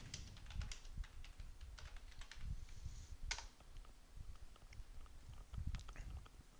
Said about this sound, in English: just go to browser and type examp download for Windows